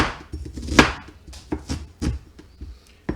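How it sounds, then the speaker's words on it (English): A kitchen knife chops food into quarter-inch chunks on a cutting board for a lemon chicken cacciatore sauce, giving close, uneven knocks in a quick irregular rhythm with no talk. "See how I'm cutting it?"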